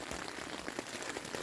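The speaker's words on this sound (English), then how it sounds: "inside of my tent, trying to hide from the hail" Hail pattering on a tent on the Pacific Crest Trail near Campo, a dense, steady spray of small hits close by, faint and continuous without a break.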